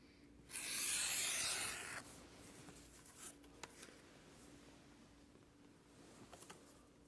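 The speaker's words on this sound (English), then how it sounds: "on the outside edges I will edge bevel" A tool rasps along a leather backpack edge in one loud stroke lasting about a second and a half, followed by a few faint scrapes and taps in a quiet room.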